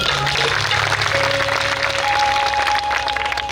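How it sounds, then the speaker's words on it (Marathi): An audience at a live Gondhal folk performance by a Shahir at a temple breaks into loud, sustained applause that holds steady throughout, with faint musical tones ringing beneath the clapping. "एकदा जोरदार टाळी वाजवा"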